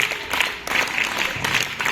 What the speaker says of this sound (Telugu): ఒకసారి చప్పట్లు కొడదామా?